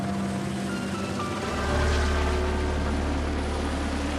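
A helicopter drones overhead with a loud, steady low rumble that swells partway through and holds, sounding close and continuous with no voices.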